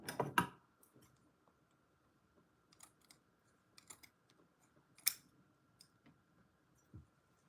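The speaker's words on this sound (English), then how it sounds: "I'm gonna cut a little bit away." Scissors snip through fabric during a clothing alteration, several short, close, crisp cuts scattered among quiet pauses, with a stronger burst of snipping at the start.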